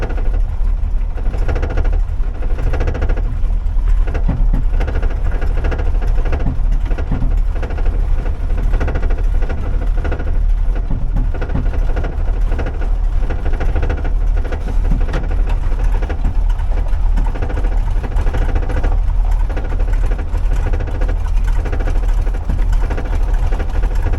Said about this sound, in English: I love the idle this thing has.